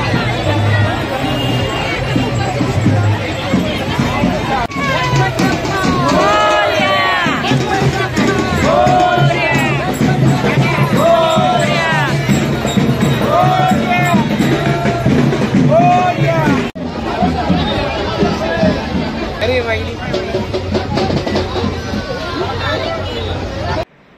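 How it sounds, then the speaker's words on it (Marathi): A dense crowd murmurs at a Ganesh idol immersion collection centre, with continuous overlapping chatter close by and some nearby voices standing out. Faint vehicle noise runs underneath. "लस गर्दी झाली आहे ना आता"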